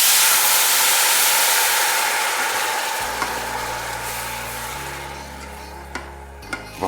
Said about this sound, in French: c'est celui auquel on ajoute le pinard